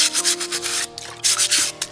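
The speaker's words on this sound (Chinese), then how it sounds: "第一步就是先把它刷干净。" Stiff brush scrubbing dirty raw oyster shells clean, a close, loud rasping scrub in quick repeated strokes over two seconds with no talking.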